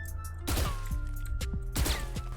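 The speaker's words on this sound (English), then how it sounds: "So this is strafing and then shooting." Gunfire while strafing in Valorant: three separate loud bursts of a few quick shots each, crisp and close, with footsteps and game sounds between them.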